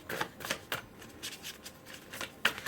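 Tarot cards being shuffled by hand in repeated quick riffling bursts, close and fairly quiet, with no talk.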